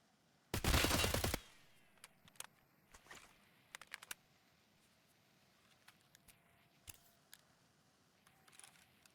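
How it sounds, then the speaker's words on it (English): Gunfire in a competitive shooter video game match: one loud, dense burst of rapid shots up front, then scattered fainter single shots and clicks across a quiet background. "It's 3 kills in the space of about as many seconds from just aggression and great gunplay out of Boa and Workaround"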